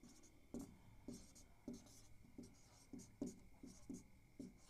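Chalk or marker on a classroom board as a teacher writes out the divisibility rule for 2; faint, evenly spaced strokes tap and scrape about twice a second against a quiet room with a thin background hum, no talking.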